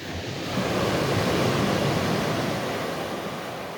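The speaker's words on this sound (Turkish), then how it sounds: "Sabahki deniz bir anda coştu." Rough sea waves crash and roar continuously onto a stony shore, a loud broad rush of surf with no voices.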